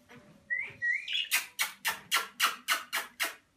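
A budgerigar gives a couple of short whistled notes, then a quick series of about nine sharp, evenly spaced chirps, close and fairly quiet.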